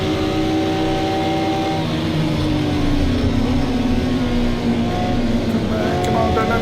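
A Ford race car's engine drones and revs continuously in a racing video game, a loud, harsh, sustained tone with shifting pitch as it accelerates, with other cars' engines layered underneath.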